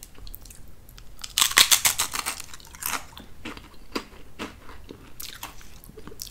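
Clover Valley classic original potato crisps are bitten two at a time, with loud close crunches followed by a run of crisp chewing crackles and softer munching, no voice present.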